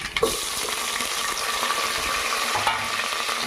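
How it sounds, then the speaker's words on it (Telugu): Chopped onion pieces sauté in hot oil in a pan, giving a loud, continuous frying hiss. A few scraping knocks early on mark stirring. "దీంట్లోకి అవి వేసుకుందాం. ఉల్లిపాయ ముక్కలు, దాంట్లోకి ఉల్లిపాయ ముక్కలు వేసుకుందాం."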